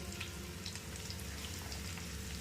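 Onion pieces and three dried red chilies frying in hot oil, a steady dense sizzle with light crackling pops throughout, close and even, no voices.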